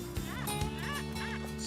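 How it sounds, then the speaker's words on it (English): Metal detector squeaking with rising-and-falling warbling tones over a Mundrabilla meteorite in the Nullarbor Desert, three quick close squeals over a steady electronic hum. "Notice how it really squeaks, the detector?"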